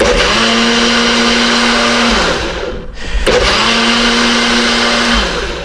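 A loud blender crushing ice whirs in two long bursts with a short pause between, its motor pitch dropping as each run winds down.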